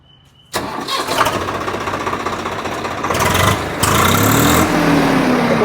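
A Swaraj 855 tractor's diesel engine cranks and catches after a brief silence, then rumbles loudly and revs up in a couple of surges, close by.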